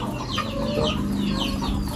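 Laying hens on a poultry farm cluck and squawk close by, several birds overlapping in a busy, continuous chatter with no talk over them.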